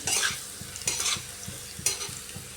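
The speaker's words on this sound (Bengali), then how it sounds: "গ্যাসের হিটটা ফুল করে আলুটা বেজে নিয়েছি" Potato pieces fry in oil in a pan over full gas heat, a steady sizzle broken by repeated scraping stirs of a spatula, close and fairly loud, with no voices.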